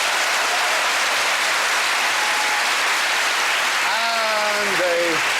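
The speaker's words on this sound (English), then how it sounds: "give a big hand for Sue Perkins" Studio audience at a panel quiz show bursts into loud, dense applause for a guest's introduction, continuous heavy clapping with a voice briefly cheering or calling out near the end.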